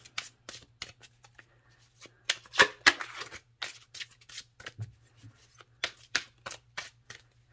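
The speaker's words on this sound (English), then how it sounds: "I'm gonna shuffle again." Tarot cards being shuffled, a run of crisp riffling and flicking bursts, some sharper slaps, close and fairly quiet under a faint steady hum.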